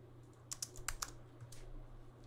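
Quick keystrokes on a computer keyboard, a short cluster of light clicks close by and fairly quiet, with a brief pause before a final tap.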